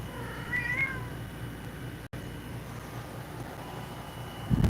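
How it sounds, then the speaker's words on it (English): An old cat, about fifteen years old, gives one drawn-out meow near the start, heard faintly over a steady low room rumble, then falls silent. "And we got the Pyro Kitty. That cat's like 15 years old."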